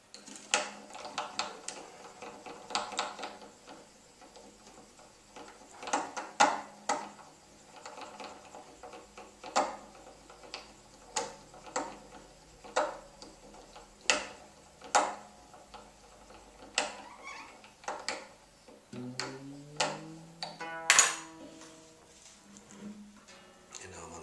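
Steady ticking and clicking of a classical guitar tuner being turned as string winds onto it, close and fairly faint, with a brief string pluck near the end.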